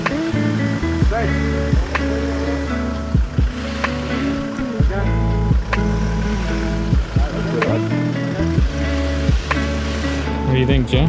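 A boat crossing Lake Kariba in Zimbabwe, with a steady, loud engine drone running throughout and people talking over it close by.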